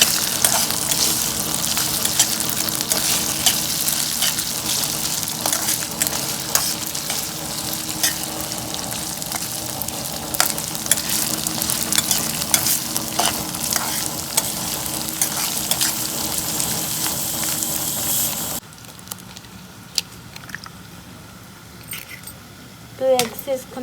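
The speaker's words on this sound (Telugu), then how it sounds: "ఇవన్నీ వేసుకొని హై ఫ్లేమ్లో పెట్టుకొని వేగనిద్దాం. వేసుకున్న ఆయిల్లోనండి" Cauliflower pieces frying in oil on a high flame make a steady, loud sizzle with scattered clinks of stirring for most of the stretch, then the hiss drops to a quieter sputter near the end.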